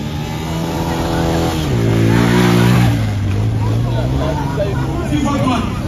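A motorcycle engine revs up and settles at a steady drone, with crowd chatter and background noise mixed underneath.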